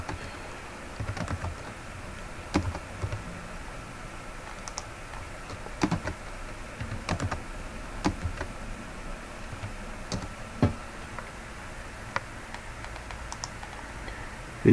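Steady typing on a computer keyboard while working in Microsoft Excel, with scattered key clicks and a few sharper taps over a low background hum, continuing throughout.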